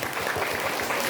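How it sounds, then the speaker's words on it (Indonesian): Parents at a student gathering of the Islamic junior high school MTs Raudhatul Mujawwidin clap together after children finish a recitation, a short, even patter of many hands throughout. "Tepuk tangan Bapak Ibu"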